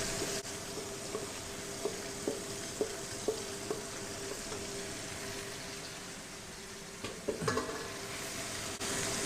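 Chunky fresh marinade ingredients tumble into a pot of frying Jamaican-style oxtail, raising a steady broadband sizzle with scattered light clicks and stirring knocks, then a brief scrape and clatter near the end, close and moderately loud with no talking.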